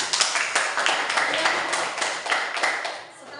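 A classroom of Indonesian students claps for their classmates, a dense burst of many hands lasting several seconds that fades at the end, with a voice heard faintly beneath.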